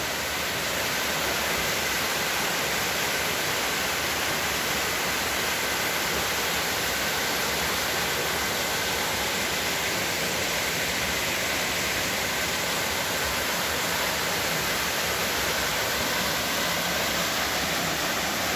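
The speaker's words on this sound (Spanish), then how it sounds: "Voy a dejarles un momento el sonido natural de esta cascada para que ustedes lo disfruten." A tall waterfall at an old creek pours in a constant, loud, broadband rush of falling water that stays even and unbroken throughout, with no voices.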